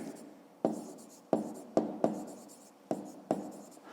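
Pen writing on paper during a fifth-grade maths exercise, with close scratchy strokes and sharp taps as the pen touches down about every half second.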